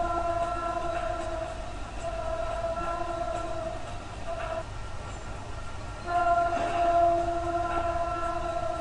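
A train passes in Sunnyvale, California, giving a steady rumbling drone with tonal hums that swells slightly toward the end. It stays fairly distant and moderately quiet throughout.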